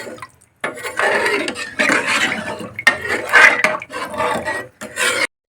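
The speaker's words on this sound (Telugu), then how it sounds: "ఇప్పుడు ఒకసారి బాగా కలుపుకోవాలండి." Water poured into a pressure cooker for bachelor-style mutton biryani being stirred: loud close bursts of scraping and sloshing against the metal pot, in several separate strokes with short pauses.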